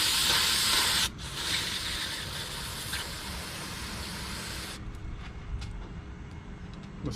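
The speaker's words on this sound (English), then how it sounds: "Just gonna hit it with some brake cleaner" A can of brake cleaner sprays onto the PCV valve of a 2010 Toyota Prius in a long, loud hiss, followed by a second steady spray. The hissing then stops, leaving faint clicks and handling noises.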